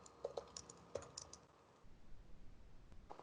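Computer keyboard keys pressed for a Control+N shortcut in Photoshop CC, giving a few quick, close clicks early on, then quiet room noise.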